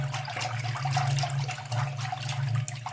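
Cold water pours in a steady, continuous stream into a bowl of spiced buttermilk masala, a close, even splashing gush running the whole time with no voices.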